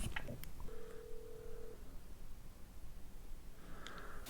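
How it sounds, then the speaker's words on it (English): Outgoing phone call ringing: a single steady ringback tone of about a second, moderately loud, followed by quiet line noise with no voices. "Okay, let's do the phone call."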